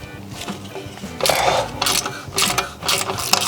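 A ratchet with a 12mm socket loosens an exhaust clamp on a Honda Rebel 500 motorcycle during a Vance & Hines exhaust install, giving close, fairly loud ratcheting clicks in short bursts over a mechanical background.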